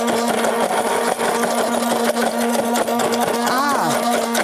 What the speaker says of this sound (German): Kann ich das so lange noch mal kurz pürieren?